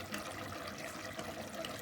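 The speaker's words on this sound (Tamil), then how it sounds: "இந்த தண்ணி எல்லாம் வடித்து எடுத்துருவோம்." Starchy water drains off a pot of boiled jeera rice in a steady, low gushing pour that stays even and fairly quiet throughout, with no voices.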